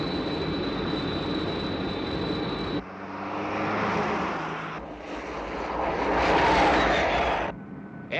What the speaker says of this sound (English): Aircraft.